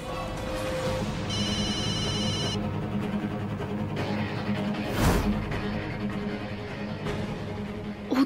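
A telephone rings in a domestic TV drama scene, a repeating electronic ring of about a second standing out over background music and room noise, with no voices during the ring.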